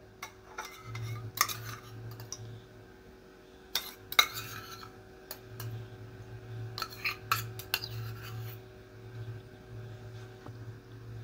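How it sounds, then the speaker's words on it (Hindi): A spoon mixing curd into veg pulao in a pot, heard as soft scattered clinks and scrapes against metal over a steady low hum in a quiet kitchen. "अच्छे से मिक्स करेंगे।"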